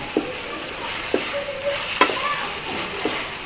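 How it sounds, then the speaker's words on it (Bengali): Shrimp for a mashed shrimp bharta fry over low to medium heat with a steady sizzle, punctuated by four or five distinct scraping stirs against the pan, close by. "প্রায় ভাজা হয়ে গেছে"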